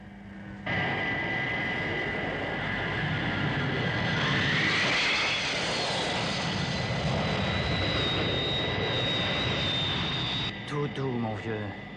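A cartoon aircraft comes in to land with landing gear and flaps down and braking rockets fired, a steady loud jet roar with a rising whine, continuous for about ten seconds under a voice before cutting off into clanking.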